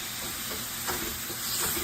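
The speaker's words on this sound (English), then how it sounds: "Let me give it a good stir." Tofu and mushrooms in olive oil sizzle loudly in a pan as they are stirred, a steady close hiss with brief swelling scrapes from the stirring.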